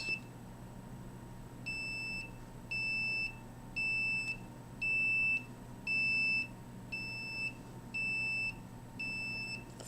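Yellow detector sounding a beeping alarm, eight evenly spaced electronic beeps of about half a second each over a low steady hum, fairly faint, with no talking.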